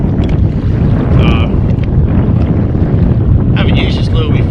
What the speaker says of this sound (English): It's just got a bit windy out here all of a sudden